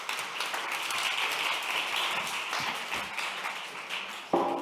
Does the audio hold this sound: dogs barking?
no